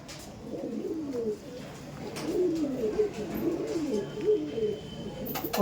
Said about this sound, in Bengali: এটা ফিমেল পায়রা